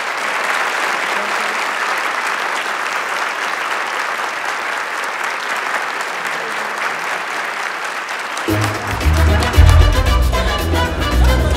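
Sustained applause from a crowd, steady clapping that carries on for several seconds, then shifts into louder clapping mixed with music and voices.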